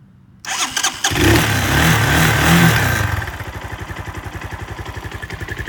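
A CSC SG250 motorcycle engine cranks, catches and revs loudly, then settles into a steady, rhythmic single-cylinder idle thumping up close.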